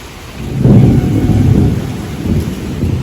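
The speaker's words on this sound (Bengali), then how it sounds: "সেই তিনটে থেকে বৃষ্টি শুরু হয়েছে ঝমঝমিয়ে এখন হয়েই চলেছে" Heavy rain pours steadily with a low thunder rumble swelling early and lingering, a dense close wash of downpour with no voices.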